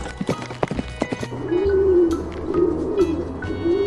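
Pigeon cooing from a farm-animal lineup, a low rolling coo that swells and wavers from about midway through, with scattered clops and rustles early on.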